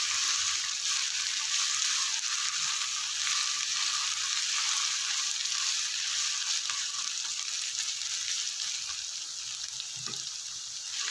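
Keema and karela frying in a pan, a steady broad sizzle running throughout with faint scraping of stirring near the end, no talk.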